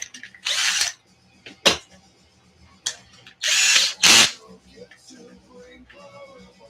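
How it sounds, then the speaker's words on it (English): A power drill whirs in several short bursts separated by pauses while RC cars and trucks are repaired, with quieter clanks and a voice speaking in between. "where's my drill?"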